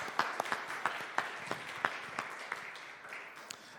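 A church congregation gives a fairly faint, somewhat distant round of applause, its scattered claps thinning out over a few seconds.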